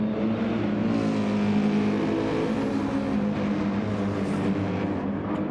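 Nissan and BMW GT3 race cars roar past at Suzuka in a racing game, a loud continuous engine drone with steady harmonic whine and no talk.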